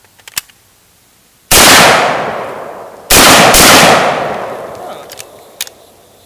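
Two loud, close AKS-74u rifle shots ring out a second and a half apart, each with a long decaying echo, after a brief quiet exclamation.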